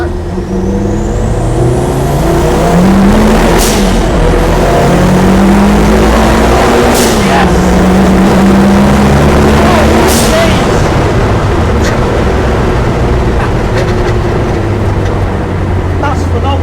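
A 550HP rear-engined Peugeot 205 revs loudly and close, its engine note rising and falling in sweeping pulls with a heavy rumbling drone, and voices talk faintly beneath it.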